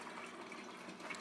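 Water draining from an expansion tank through a hose, a faint, steady rushing flow with no talk over it.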